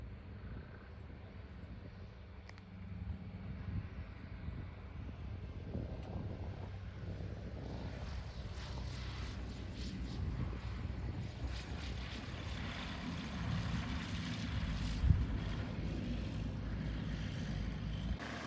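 A small RV propeller airplane landing and taxiing at a small-town airport, a low steady engine drone with wind rumble, heard from inside the plane and holding fairly constant, with a slight swell midway.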